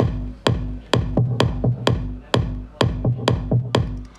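Filtered percussion loop thinned to mid-low frequencies, paired with a punchy bass drum hitting in a steady pattern with quicker syncopated hits between, close and dry.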